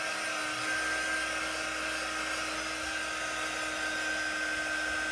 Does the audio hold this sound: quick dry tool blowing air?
yes